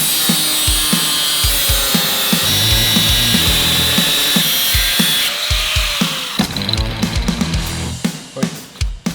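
A power tool cuts out a license plate frame for a custom chopper, producing a loud, continuous high-pitched whine and grind with rhythmic chattering pulses, close up and alone.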